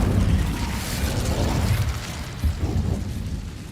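Incendio fire spell cast in Hogwarts Legacy, a rumbling whooshing burst of flame with low booming roar that swells and rolls on for several seconds, dense and loud.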